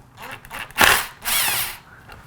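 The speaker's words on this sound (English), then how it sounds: "I'm not going to install it with the power tool, but I am going to take it off" A power drill briefly whirs twice to back out a bolt on the gas tank of a Honda CRF50 motorcycle, with two short close-up bursts separated by a brief pause.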